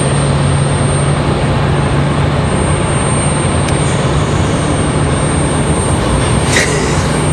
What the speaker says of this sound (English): Copa landing right after we started the show.